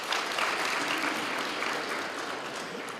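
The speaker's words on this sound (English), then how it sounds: "I want us to give them a round of applause." An audience at a Kavango West regional state address breaks into dense, even applause for the young people. The clapping holds steady for a few seconds and fades slightly near the end.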